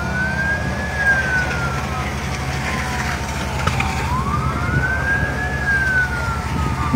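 A fire truck siren wails, rising and falling in slow sweeps, moderately distant, over a low rumbling engine drone, at a parking area fire at NAIA Terminal 3 airport in Manila.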